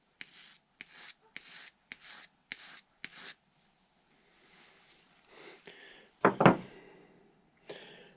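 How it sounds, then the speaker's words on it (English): Steel knife blade honed to a point on a sharpening stone: six evenly spaced rasping strokes, close and dry, then a pause, a louder knock or scrape and one final stroke. "I'm gonna take a stone. I'm gonna hone this to a point."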